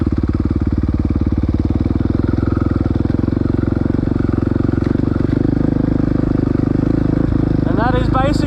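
A dirt bike's engine runs loud and close with a steady rapid chugging throughout, with a brief mechanical clatter near the end as it shifts into first gear.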